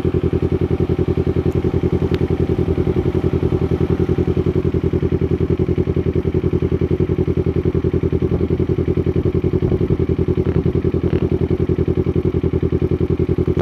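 A Kawasaki Z400 motorcycle engine runs steadily nearby, a loud, even, rapid mechanical throb that holds at a constant pace without revving throughout.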